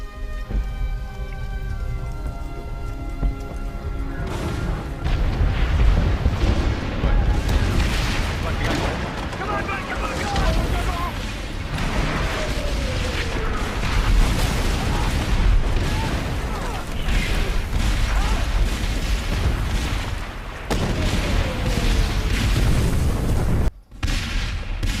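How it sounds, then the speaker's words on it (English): Civil War artillery fire at Gettysburg rolls on for about 25 seconds as repeated deep cannon booms and rumbling blasts, dense and continuous, with voices mixed in. "This damn artillery attack caught us off guard now."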